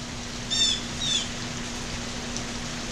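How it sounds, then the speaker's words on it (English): A couple of brief, high bird chirps over a steady hiss of rain, fairly faint and distant, with a low constant hum underneath. "Listen to the birds."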